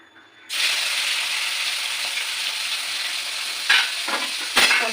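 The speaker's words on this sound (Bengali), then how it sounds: "এবার আমি মাছ ভাজবো, চিংড়ি মাছগুলো।" Prawns sizzle loudly as they drop into hot oil in a pan for mixed fried rice, a steady broadband crackle beginning abruptly and holding throughout, with a couple of brief scraping stirs near the end.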